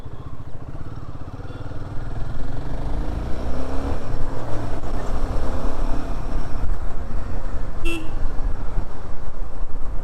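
Moving city street traffic heard from a Royal Enfield Himalayan 450 motorcycle on an office commute, a loud continuous engine and road roar with a short horn toot near the end.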